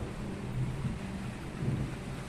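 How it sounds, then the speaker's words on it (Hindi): Steady rain pouring down in an early-morning storm, a dense even wash of sound with low rumbling beneath, moderately loud and without voices. "ये गिर रहा है पानी।"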